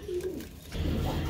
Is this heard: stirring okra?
no